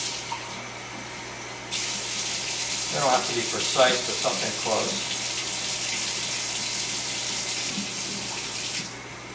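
Warm water runs steadily from a tap for about seven seconds while a voice talks over the flow, part of dissolving yeast for homemade grape wine.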